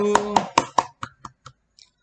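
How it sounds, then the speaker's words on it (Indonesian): Classroom applause for a student group, heard as a short rhythmic run of about eight crisp claps that grow fainter toward the end. "Tepuk tangan untuk kelompok 7."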